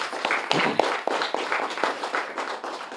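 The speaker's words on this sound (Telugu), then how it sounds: "ఒకసారి గట్టిగా క్లాప్స్ కొడతాం మీరు కూడా" A crowd claps along at a Sankranti celebration in a pyramid meditation center, a steady patter of overlapping hand claps with sharper individual slaps standing out, moderately close and continuous.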